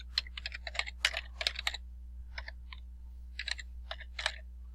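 Computer keyboard typing an email address, close and crisp, with quick irregular clusters of key clicks and brief pauses over a low steady hum.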